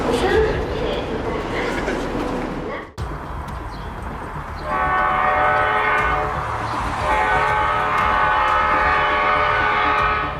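A 70 ME passenger train rolls through a crowded city with its horn blaring in a long, loud sustained tone during the second half, after a noisy rush of rail sound and voices.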